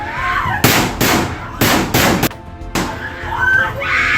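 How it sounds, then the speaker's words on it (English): Several sharp, loud gunshots in quick irregular succession, close and echoing inside a school building, with voices and commotion around them. "The deafening sound of gunfire triggered the building's fire alarm"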